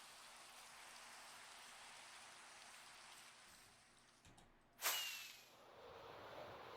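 Steady rain hisses across the scene in Minecraft, a moderate even patter that briefly swells with a sharp whooshing burst before settling back. No voices are heard.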